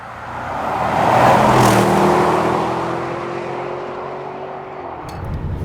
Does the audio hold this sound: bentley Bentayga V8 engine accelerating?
yes